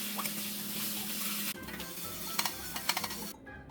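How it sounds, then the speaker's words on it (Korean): Water runs from a bathroom faucet as it is rinsed clean after scrubbing, a soft steady splash with a few faint clinks and drips near the end, quiet and close. "물로 깨끗이 헹궈줄게요"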